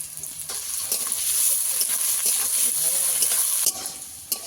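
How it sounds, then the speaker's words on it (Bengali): Square-cut carrot pieces fry in hot oil in a pan, giving off a loud, steady crackling sizzle with scattered pops and clicks from stirring. "গাজরটা আমি 2 মিনিট ভেজে নিয়েছি"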